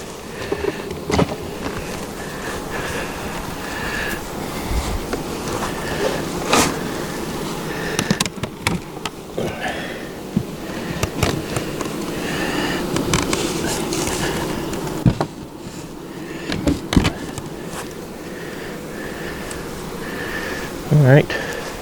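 Honey bees hum steadily at a hive entrance during July grafting work, a constant buzzing bed that runs beneath someone talking close by, with occasional knocks and handling noises.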